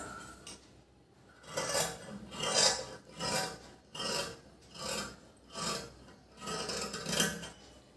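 Scissors cut the front panel of a four-tuck blouse from fabric, making a close, rhythmic series of about seven rasping strokes in a quiet room.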